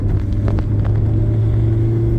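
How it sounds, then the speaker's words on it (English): A light 1980 Porsche 924 with stiff suspension rolls over a back-road pothole, giving a steady close engine and road rumble with a few soft thumps from the tyres and body, and no voices. "Let's see how bad that pothole is"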